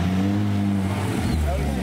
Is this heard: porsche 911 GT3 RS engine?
yes